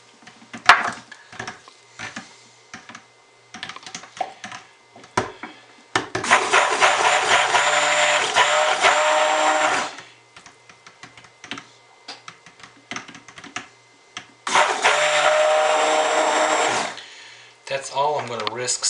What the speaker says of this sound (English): That's all I'm going to risk stick blending.